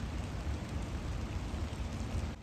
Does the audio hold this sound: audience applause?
no